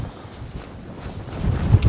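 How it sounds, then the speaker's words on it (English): Strong wind across the Cheviot Hills in Northumberland during wet weather at a wild camp, a gusty buffeting roar that swells louder toward the end, close to the microphone and with no voices. "It's windy, it's wet."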